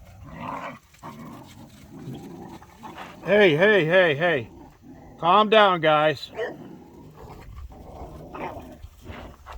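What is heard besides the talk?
dogs growling while playing rough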